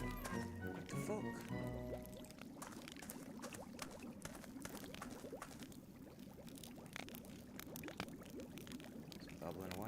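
Water bubbles and gurgles in a pot in the video game Book of Unwritten Tales, a dense, continuous liquid churning at moderate loudness with talk faintly underneath.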